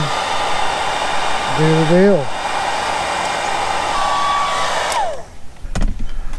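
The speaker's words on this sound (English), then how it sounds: "But I just got my gun out here. It's my shrink wrap gun" Heat gun used to shrink wrap tubing while working on a 1993 Evinrude 40hp outboard, a steady loud close blowing whoosh that cuts off near the end, with a brief spoken remark partway through.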